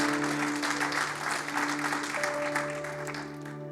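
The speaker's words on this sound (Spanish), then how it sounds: "Denle ese aplauso fuerte a Cristo, porque Él es bueno." Church congregation at a Spanish-language Christian service claps in a sustained, moderately faint burst of applause, with a held keyboard or organ tone underneath.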